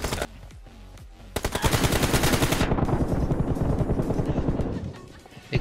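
Rapid bursts of automatic gunfire from a mobile shooter game team deathmatch ring out loud and dense for several seconds, with a pause then renewed firing, a voice talking faintly underneath.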